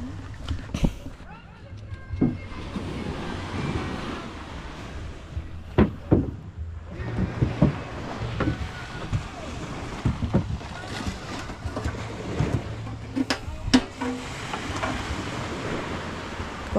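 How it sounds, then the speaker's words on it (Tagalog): An old boat engine runs steadily with a low, even drone, mixed with wind buffeting and splashing water, while voices talk intermittently nearby. "Parang ang tagal na ng makina na yan oh."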